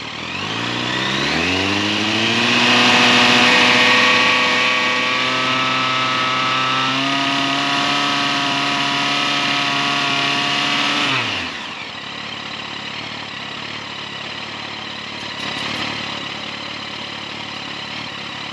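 A Yamaha FZ1 motorcycle engine, warm, revs up and holds steady near 5,000 RPM for several seconds, a loud sustained mechanical whine, then drops abruptly back to a low idle.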